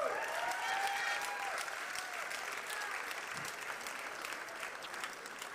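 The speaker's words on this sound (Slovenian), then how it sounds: "En aplavz." An audience at a festival finale awards ceremony applauds, a dense continuous clapping from a mid-sized crowd that starts strong and slowly tapers, with faint voices mixed in.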